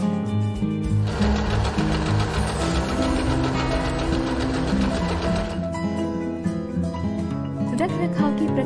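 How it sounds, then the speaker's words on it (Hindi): An Usha Janome Wonder Stitch sewing machine runs a burst of rapid, even mechanical stitching for several seconds, close and clear, before slowing to a stop, with a voice speaking alongside. "आखिर में पैटर्न सिलेक्टर को एफ पर रखें और सिलाई शुरू करें।"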